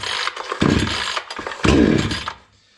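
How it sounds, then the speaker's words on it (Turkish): A Bolat 5520 chainsaw engine gets pulled to start, with two loud bursts of rough engine sputter and starter noise close by that cut off and fade to quiet. "Ve motoru çalıştırıyoruz."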